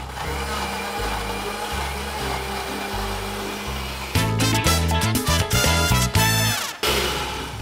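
A blender churns frozen strawberries with water into a smoothie, a loud steady motor whine that turns rougher and choppier midway as the chunks knock against the blades, close by with no talking.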